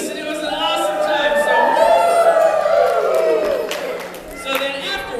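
A church crowd of children and adults yells "Hosanna" together in a loud, drawn-out cheer that rises and then fades, followed by scattered shouts and clapping, filling a large indoor room.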